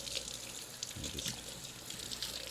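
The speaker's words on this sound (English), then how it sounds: "run some water over" Tap water runs into a kitchen sink in a steady, close hiss with soft splashing and gurgles, continuous throughout at low volume with no speech.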